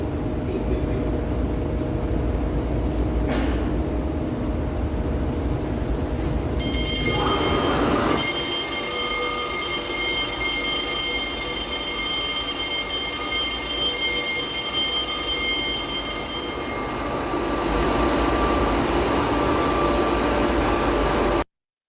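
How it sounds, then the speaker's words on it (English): An audible alarm on fire sprinkler equipment under test gives a steady, harmonic electronic tone for roughly ten seconds, rising clearly above a constant background rumble before cutting off. "we'll check the audio alarm of sprinkler equipment"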